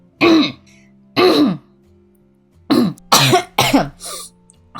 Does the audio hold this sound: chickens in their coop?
no